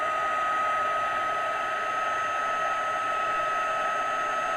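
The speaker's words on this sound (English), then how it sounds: "Always make sure that you go to the second mark on the heating tool." A heat embossing tool set to its higher embossing heat blows hot air in a steady, loud, unbroken whoosh with a faint whine, running alone throughout.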